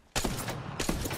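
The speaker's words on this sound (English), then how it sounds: "The enemies are shooting at me." Enemy gunfire in Apex Legends, a loud, close burst of rapid shots that starts abruptly, with a second volley right after.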